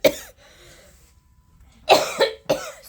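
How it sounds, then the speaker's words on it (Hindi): A woman coughs in two close harsh bursts near the mic, with a quieter earlier cough and a faint pause between. "सॉरी, मुझे खांसी आ गई है।"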